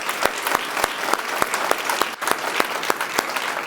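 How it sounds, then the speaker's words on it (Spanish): A church congregation claps for a young police officer, with distinct rhythmic unison claps beating at a steady pace over a bed of scattered applause. "Give a strong applause."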